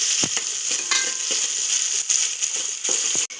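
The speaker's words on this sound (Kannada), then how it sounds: "ಒನಿಯನ್ ಕಟ್ ಮಾಡಿದಂಥ ಒನಿಯನ್ ಹಾಕ್ತಾಯಿದ್ದೀನಿ. ಇದು ಚೆನ್ನಾಗಿ ಫ್ರೈ ಮಾಡ್ಕೊಳ್ಳೋಣ." Chopped onions fry in oil for a Katla fish curry, a loud, continuous hissing sizzle broken by several sharp clicks and scrapes of stirring, with no talking.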